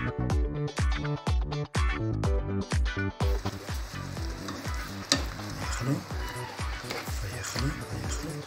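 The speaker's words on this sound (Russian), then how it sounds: "А это у нас мисочка с грибочками, которые будут жариться." Mushrooms frying in a pan with salt, a loud crackling sizzle close up, with a few sharp stirring scrapes at the start before settling into a steady dense fry.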